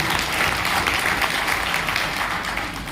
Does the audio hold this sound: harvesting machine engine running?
no